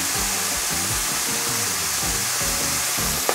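Sliced beef sears over high heat in a wok for Szechuan beef, giving a loud, close, continuous hiss and sizzle that stays even throughout, with low rumbling stove noise beneath it.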